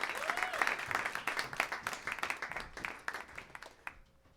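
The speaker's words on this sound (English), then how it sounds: "Let's give a warm round of applause for your hosts tonight, Ryan Pigg and Eddie Firth." An audience at a comedy roast applauds, a crowd of clapping hands that holds steady for several seconds and then thins out and fades at the end.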